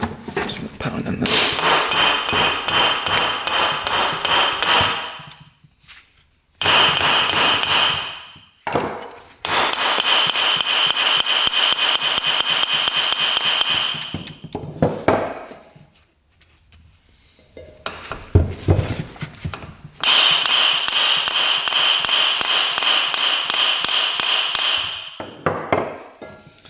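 A hammer pounds repeatedly on a stuck CV axle, rapid ringing metallic blows in long bursts separated by short pauses, loud and close, with a voice speaking briefly between strikes.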